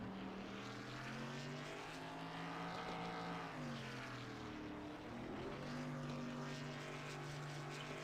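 Engine of the 04 race truck roars in sustained victory burnouts after a championship night race at Charlotte, a continuous distant drone rising and falling in pitch with revs.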